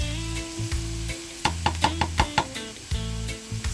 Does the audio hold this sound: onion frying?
yes